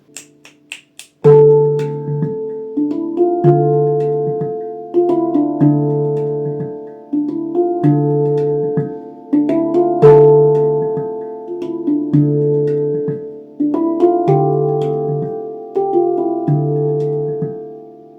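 A handpan plays a slow melody of ringing, resonant notes struck one after another, each tone sustaining and fading before the next.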